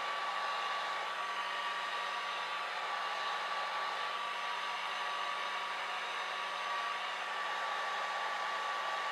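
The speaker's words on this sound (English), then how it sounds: "So just remember where to hold the dryer." Hair dryer blowing air onto alcohol inks, a steady, loud whooshing hum with a faint tonal whine running unbroken throughout, alone without voices.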